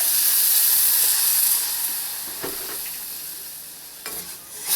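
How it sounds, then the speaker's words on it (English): Milk poured into a sautéed flour mixture and stirred in a pan, a loud steamy hiss that slowly fades, with a few soft scraping stirs near the end. "I'm going to go ahead and start adding some milk"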